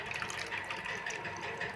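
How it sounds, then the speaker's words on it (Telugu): Tamarind water poured into a simmering mutton bone and taro (arbi) curry, a steady liquid gush and splash lasting the whole moment, close and moderately loud with no talking. "చింతపండు రసం అయితే మేము మొత్తం వేసేసాము"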